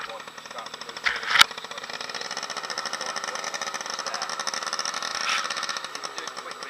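A motorcycle engine hums steadily at low speed as a training bike on a CBT course begins to move forward, with a brief clunk near the start and someone talking over it.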